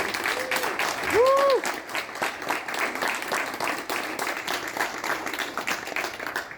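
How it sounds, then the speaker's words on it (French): An awards-night audience applauds for Trevor, a steady crowd clapping throughout, with a brief whistle or cheer near the start and some voices mixed in. "J'aimerais qu'on lui fasse une main d'applaudissement pour Trevor."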